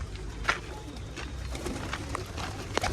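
Pigeons sitting together cooing softly on a rainy day, low muffled calls under steady rain-like background noise with a few faint chirps and clicks nearby.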